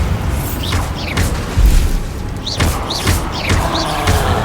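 Deep booming blasts of the Bombarda spell in the Hogwarts Legacy video game, heavy thuds repeating through a dense, noisy battle with whooshing spell effects.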